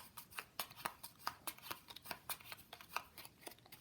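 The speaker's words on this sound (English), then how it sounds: "you're going to shuffle your cards." Playing cards being shuffled by hand during a game of Finding Five solitaire, a rapid series of soft riffling bursts and flicks repeating in an uneven rhythm, close and fairly quiet, with no talking.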